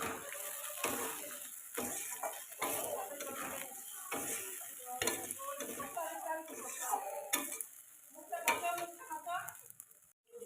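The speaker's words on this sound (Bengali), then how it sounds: "আলুগুলো দিয়ে ভালোভাবে কষিয়ে নেব।" A spoon stirs potatoes into frying spice masala in a pan, with repeated clinks and scrapes against the metal over a soft sizzle, fairly quiet and close.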